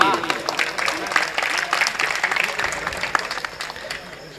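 A crowd applauding with scattered claps, fairly close, while a voice speaks over the clapping.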